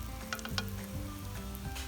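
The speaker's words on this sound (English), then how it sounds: "you can go ahead and start frying them" Steady crackling sizzle of chicken cutlets frying in oil at about 350 degrees, close and continuous, with a low background hum and a few faint clicks.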